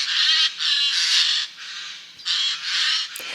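A Eurasian jay in the Paris woods gives loud, hoarse, rasping screeches in several drawn-out bursts with short gaps between them, close and clear, with no voices.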